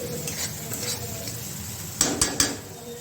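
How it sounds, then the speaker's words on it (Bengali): Spices and chillies are stir-fried in oil for a Bengali rohu fish curry. A soft sizzle runs underneath, and three sharp metallic clinks of a spatula on the pan come near the end. "ভালো করে মশলাটা কষে নেব।"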